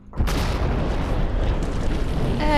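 A loud blast from a high-speed ballistics test starts with a sharp onset and turns into a sustained, dense roar that fills the whole clip with no pause.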